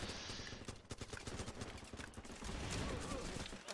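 Suppressive gunfire in the video game Running With Rifles, dense overlapping rapid shots forming a continuous fusillade, fairly loud throughout.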